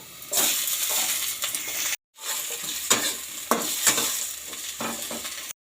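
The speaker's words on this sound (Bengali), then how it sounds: "কালো জিরা ফোড়ন দিয়ে পেঁয়াজ এবং রসুন দিয়ে দিয়েছি" Onion and garlic fry in a small amount of hot oil with nigella seeds, giving a loud, close sizzle broken by repeated scraping stirs, with a short break near the start.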